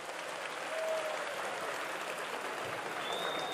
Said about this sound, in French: Je voudrais que vous leur fassiez un tonnerre d'applaudissements pour leur présence